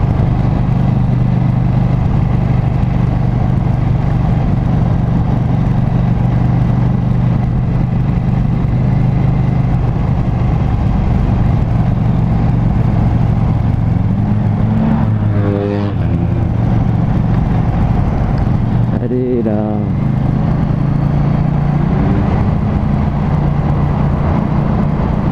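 A KTM Duke 790 motorcycle engine hums along in third gear at about 50. The drone stays steady, with a couple of brief rev changes partway through, under constant road and wind noise.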